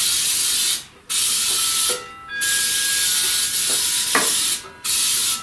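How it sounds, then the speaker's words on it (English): Cooking spray is hissed into a nonstick bundt pan in four long bursts separated by short pauses, close and steady, with small clinks in between. "So let me spray the pan,"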